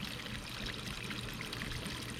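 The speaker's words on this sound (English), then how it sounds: "You can see it finally caught siphon. You can hear it burping." Water drawn through a corrugated pipe siphon in a vegetable bed flows in a steady, close gurgling trickle with no pauses, alone without voices.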